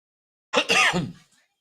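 A man gives one short, sharp cough, a brief burst standing alone in quiet.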